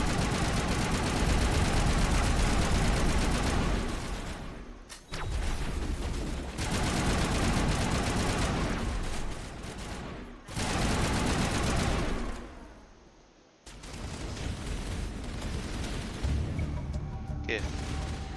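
Sustained, dense gunfire and explosions rattle on through a sniper firefight on Virmire in the Mass Effect video game, loud and continuous with only brief dips.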